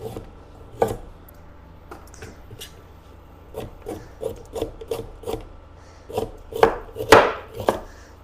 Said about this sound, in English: So I am just going to chop.